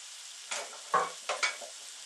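Mushrooms frying in a pan are stirred with a wooden spoon: a few soft scraping strokes stand out over a quiet, steady sizzle.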